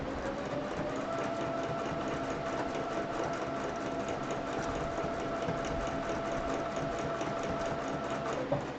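A sewing machine quilting a chicken-themed quilt runs in a steady, fast, close-up rhythmic whir with a faint motor whine, continuous and unaccompanied by speech.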